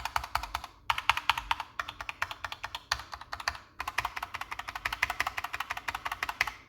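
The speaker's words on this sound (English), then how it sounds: "if you can appreciate how a keyboard sounds and feels" Rapid typing on a Corsair K65 RGB Mini keyboard, a dense run of close, crisp key clicks with a few short pauses, no voices.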